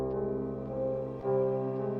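A drill-style beat melody, pitched down three semitones, plays as sustained harmonic synth tones with a low bass line, steady and fairly loud, shifting to a brighter held note partway through.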